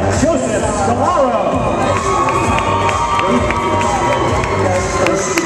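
Guests at a wedding reception in a Fall River cultural center cheer and shout as a crowd for the junior bridesmaid's entrance, a loud, steady roar of voices with excited yells throughout.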